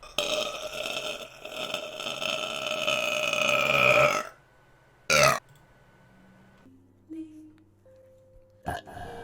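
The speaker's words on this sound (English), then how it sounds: "that's the fourth burp of the stream," A woman lets out a long, loud, drawn-out burp lasting several seconds, followed by quieter scattered sounds and brief noises in an otherwise near-silent room.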